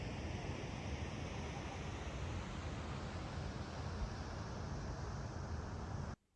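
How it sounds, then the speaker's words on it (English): Rain starting to fall along a trail at Nambe Falls, New Mexico, a dense, steady wash of hiss that runs loud and unbroken before cutting off abruptly near the end. "Ayan na ang ulan."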